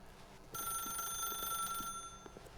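A telephone rings in the video game The Stanley Parable, a steady electronic trill that starts abruptly, holds for over a second, then cuts off, fairly faint beneath light game ambience.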